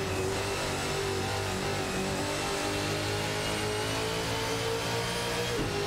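Holden Commodore VF and VE race cars from a racing video game roar steadily at high revs, a loud continuous engine drone with layered whine and no speech.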